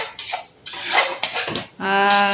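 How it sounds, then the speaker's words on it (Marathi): Spoon scraping and clinking against a pan while coconut is roasted, several short strokes with brief gaps, close and fairly loud, ending in a ringing metallic tone. "मावशी खोबरा भाजते"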